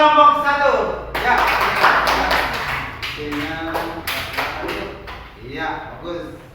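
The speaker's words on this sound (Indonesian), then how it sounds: "Tepuk tangan untuk kelompok 1." Applause for a student group in an Indonesian classroom lesson: scattered hand claps and taps that swell, then thin out into separate claps, while a teacher's voice talks over and after them.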